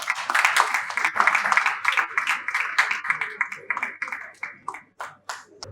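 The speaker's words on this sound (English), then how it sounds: "Please, a round of applause for him," An audience claps for a speaker being welcomed at a formal event on digital skills education, with dense, fairly close applause that thins into scattered individual claps toward the end.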